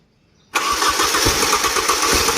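An engine starts abruptly after a brief quiet moment, cranking straight into a loud, steady running roar that continues close by without pause.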